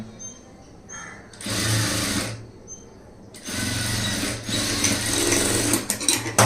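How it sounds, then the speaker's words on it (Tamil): Bursts of a sewing machine stitching a blouse seam, with a fast, steady mechanical whirr that starts and stops several times, loud and close with no voices. "கரெக்டாக இந்த பக்கமும் ஒரு 1/2 இன்ச் கேப்பில் தையல் போட்டே வாங்க"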